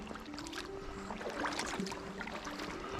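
A kayak paddle dips and pulls through cold water at about 3 degrees, worn with Kosi pogies over the hands, giving soft splashes and trickling drips close by against a quiet background.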